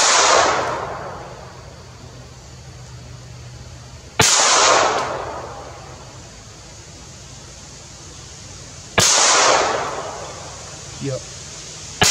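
Three sharp .22 pistol shots from a Ruger MKIII 22/45 slab-side, spaced about four to five seconds apart, each with a short fading outdoor echo.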